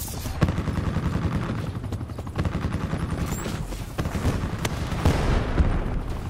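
Gunfire from Call of Duty Black Ops 4 multiplayer, with rapid bursts of loud shots and scattered single cracks running throughout, dense and close.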